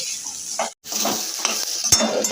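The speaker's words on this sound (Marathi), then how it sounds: "आता हे बटाटा चांगला मिक्स करून घेणार" Potatoes for dosa potato bhaji stirred in a hot pan, a scraping spoon over steady sizzling with a brief pause and a sharp clink near the end.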